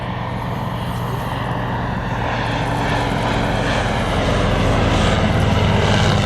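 Bristol F-2B Fighter biplane from the First World War flying overhead: a loud, steady piston engine drone with a propeller rumble, constant and fairly close across the whole stretch, with no talk.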